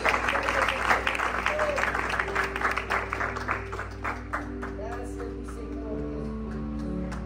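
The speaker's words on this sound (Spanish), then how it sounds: "Dar un aplauso a nuestro Señor" A church congregation claps in praise during a bilingual Spanish-English service, with hand claps over a sustained music bed. The claps are loud at first, then soften and fade as the music carries on.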